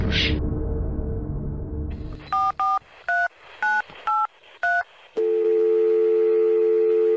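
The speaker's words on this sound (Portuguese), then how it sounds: "Tô ligando pra polícia." Someone dials a telephone to call the police: a short sound, then a dial tone, then six distinct keypad tones in a steady rhythm, ending in a continuous steady tone on the line.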